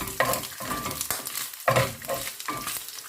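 String beans and pork frying in hot oil, with crackling spatter and several scraping stir strokes in uneven bursts, close and fairly loud.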